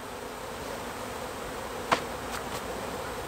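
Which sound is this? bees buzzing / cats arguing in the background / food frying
bees buzzing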